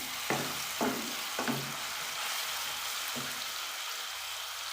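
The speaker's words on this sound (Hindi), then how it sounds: "अब हम इसमें डालेंगे लहसुन अदरक का पेस्ट, और इसको 2 मिनट के लिए" Garlic ginger paste sizzles in a pan with browned onions, a steady frying hiss broken by a few scraping stirs of a spoon early on, then settling into a quieter continuous sizzle; no voices.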